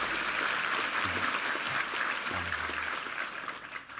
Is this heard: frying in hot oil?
no